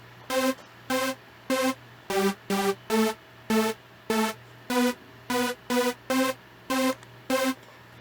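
A simple synth lead melody from Sylenth1 plays a steady pulse of short, evenly spaced bright notes stepping through a few pitches over a low sustained hum, clean and unaccompanied with no voice.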